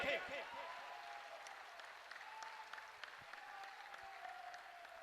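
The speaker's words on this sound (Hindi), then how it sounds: "जोर से एक बार इस युवा देशभक्त धर्म भक्त के लिए ताली बजाइए" Applause from a crowd at a Hindu religious gathering during a unity foot procession, a steady wash of clapping at moderate distance that fades slightly, with a voice briefly audible over it.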